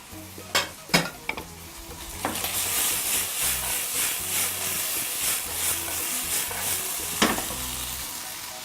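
Marinated, pre-boiled lamb and boiled chickpeas fry in a pan with a loud, continuous sizzle. A few sharp utensil knocks come at the start and one more near the end, close up and with no voices.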